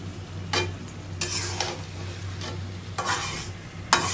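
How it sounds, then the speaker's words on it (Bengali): Chicken meat with potatoes stir-fries in a pan on the stove, a constant sizzle broken by several scraping strokes of a spatula against the pan, close and with no talking. "তাই আমাদের গোস্ত বসে গেছে চুলাত, এখন ভালো করে কষাইতে হইবে।"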